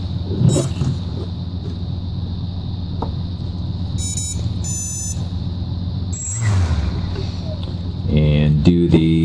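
A Red Brick 30A SimonK brushless ESC beeps through throttle calibration, giving short high electronic tones in separate bursts and a final rising run of beeps. A steady hum runs underneath, and no one speaks.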